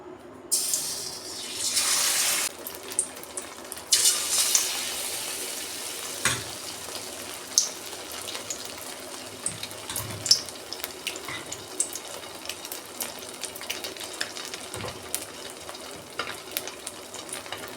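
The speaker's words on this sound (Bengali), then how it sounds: "ব্যাটারে ডুবিয়ে আমি ডিমগুলো তেলে ভেজে নেব।" Eggs dipped in batter frying in hot white oil in a kadai, a continuous sizzle with a loud burst of spitting early on and scattered crackles and utensil knocks after, no voices.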